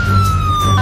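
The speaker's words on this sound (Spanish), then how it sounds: "La noche fue larga y las sirenas se volvieron a activar." A police siren wails loud and close in a short burst, its steady tone sliding slightly over a low vehicle rumble.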